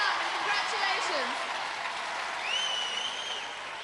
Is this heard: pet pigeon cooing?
no